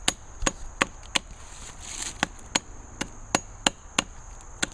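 A machete carves and sharpens the end of a piece of wood, giving a steady series of about a dozen sharp, evenly spaced chopping strikes, close and clear with no talk.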